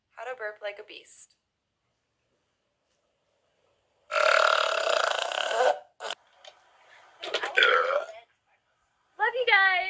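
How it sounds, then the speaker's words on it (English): A girl produces a loud, rasping burp close up, bracketed by brief bursts of talking and laughter, with a few shorter belching sounds between them. "How to burp like a beast."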